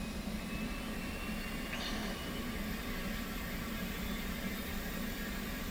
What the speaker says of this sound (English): let's go ahead and turn on our APU. Let it run up till the light comes on